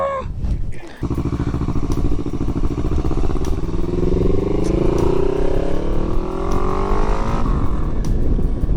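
A Kawasaki Vulcan 650 motorcycle rides along a road, its engine droning steadily and loudly close by with rising tone as it accelerates, plus wind rush throughout.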